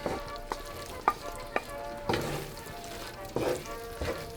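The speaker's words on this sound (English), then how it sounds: "now we're gonna add our roasted tomatoes and sauteed mushrooms" Roasted tomatoes and sautéed mushrooms drop into a risotto pan, bringing a light sizzle with several sharp clatters and stirring scrapes, fairly close and moderately quiet.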